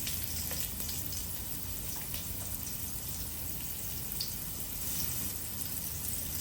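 Ginger sizzling in hot oil in a pot for braised pork belly, a steady bright crackle with fine popping running evenly throughout, close and moderately loud, with no talking.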